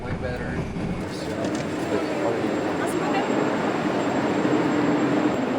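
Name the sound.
train at a subway station in Uzbekistan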